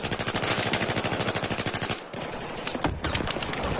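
Gunfire in Battlefield 4 during close-quarters Domination combat: a rapid, loud automatic burst of evenly spaced shots for about two seconds, then a pause and scattered further shots with clattering effects.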